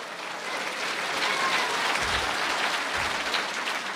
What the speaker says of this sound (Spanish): Fuerte aplausos.